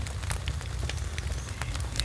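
Rain pattering at a campsite in the woods, a continuous soft patter with scattered sharper drop ticks and a low rumble underneath, no voices.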